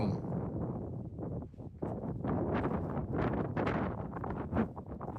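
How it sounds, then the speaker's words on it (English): Wind buffets the microphone outdoors on a farm with zebras, making a low, gusty rumble that rises and falls unevenly throughout. "It's a little windy out here"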